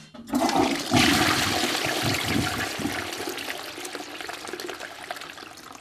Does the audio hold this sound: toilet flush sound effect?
yes